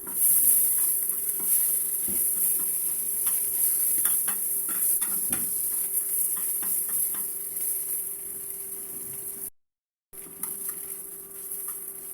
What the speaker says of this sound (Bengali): এবার শুটকিটাও টেলে নিচ্ছি। আমি ফুটি শুটকি দিয়েছি